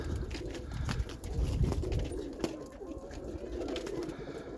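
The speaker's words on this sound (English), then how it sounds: "So we're just putting up birds." Roller pigeons coo steadily at close range in icy winter weather, with a few soft wing flutters and scattered bird calls in the background.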